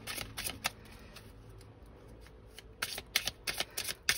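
Playing cards are shuffled up close in two bursts of crisp riffling and flicking, with a quieter pause between them and no voices.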